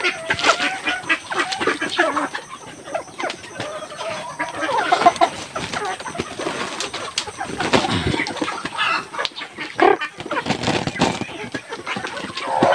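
Busy clucking of native chickens, with ducks chattering around them, continuous and close with some louder squawks.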